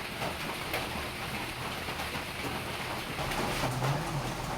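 Steady rain falling continuously, a dense even patter that holds at one level throughout with no voices.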